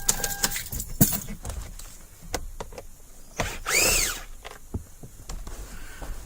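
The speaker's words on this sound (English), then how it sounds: "And we're going to remove the Phillips screw on that side." Phillips screw worked loose from the plastic steering column cover of a 2008-2010 Toyota Tundra, with sharp clicks and taps followed by one short whirring burst of a driver, close and alone.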